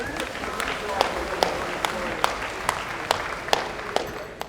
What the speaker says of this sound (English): Round of applause for these wrestlers